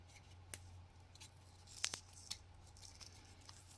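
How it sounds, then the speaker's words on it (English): Tape being applied and torn on a sealant nozzle bulb holder, a few faint crinkles and one sharper ripping tear in the middle, quiet and close over a low hum. "So now I'm taping it."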